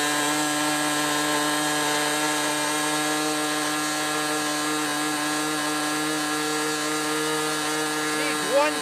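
A Windy U Master 804 model engine runs with an inner tip propeller, giving a constant, buzzing, strongly tonal drone at steady speed for the whole stretch, with a brief rise near the end.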